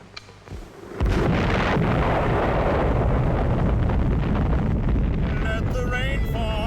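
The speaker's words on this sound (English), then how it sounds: "an imported British atomic explosion" A British atomic bomb test explosion erupts into a sustained, roaring blast that holds steady for several seconds and drowns out everything else. A brief faint voice comes before it.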